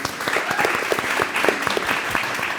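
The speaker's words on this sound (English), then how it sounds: "So give them a round of applause, please." An audience at a Women in Production event bursts into lively, close applause, dense sharp claps sustained evenly throughout.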